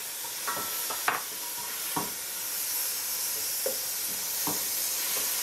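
Celery and tomato sauté in a hot pan for a tripe soup, a steady soft sizzle and hiss with a few scattered clicks of stirring, fairly quiet and without talk.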